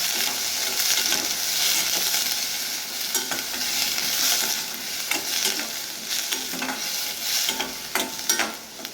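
Curry leaves frying in a pan with onions for a paarai fish curry, a steady loud sizzle with scraping stir strokes throughout, no voices.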